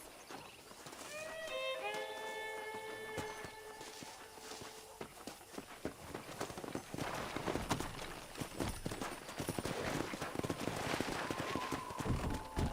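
Rapid hoofbeats from the video game Red Dead Redemption clip-clop along over a busy, muffled background, growing denser after a few musical tones fade at the start.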